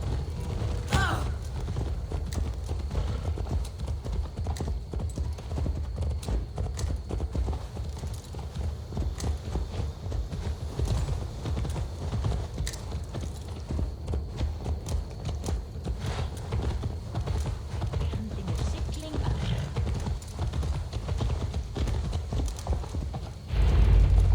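Horse hooves clip-clop steadily and close in Assassin's Creed Valhalla, a continuous rhythmic trot lasting throughout with faint mechanical creaks, ending with a brief low thump.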